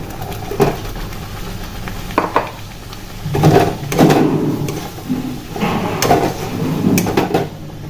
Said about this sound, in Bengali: এরপর আমি এটার মধ্যে দেবো ভেজে রাখা ফুলকপিগুলো